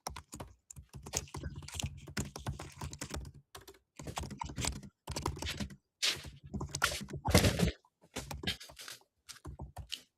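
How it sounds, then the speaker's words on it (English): Steady typing on a computer keyboard, with bursts of rapid key clicks separated by short pauses and one louder cluster of strokes near the end, close and fairly quiet. "I can hear you typing, Teddy."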